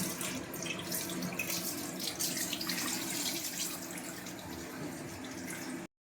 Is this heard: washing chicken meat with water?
yes